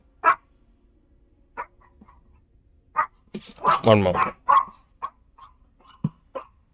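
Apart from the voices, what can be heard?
puppy barking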